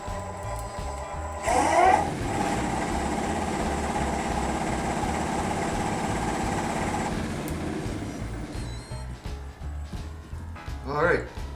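A wood lathe spins a chokecherry bowl blank at 1000 RPM, a steady mechanical hum and whir with motor drone that speeds up early and winds down near the end.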